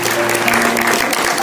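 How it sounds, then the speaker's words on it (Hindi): Loud, steady applause from an audience at a teachers' and students' art award ceremony in Uttarakhand, sustained clapping with a faint tonal hum underneath. "जोरदार तालियां जोरदार तालियां"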